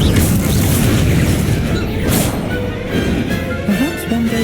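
Fire spell cast in the game Hogwarts Legacy, a loud rumbling boom and burst of flame, continuous and dense, fading slightly toward the end.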